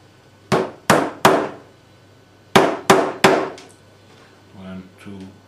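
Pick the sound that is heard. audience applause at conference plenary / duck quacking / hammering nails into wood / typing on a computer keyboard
hammering nails into wood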